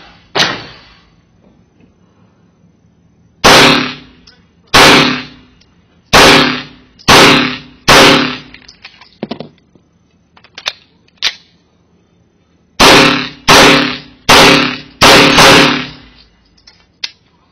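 STI Hawk 5.0 pistol firing during a function check: two separate strings of sharp, loud shots, five spaced shots, a pause, then five more in an even rhythm, with no talk.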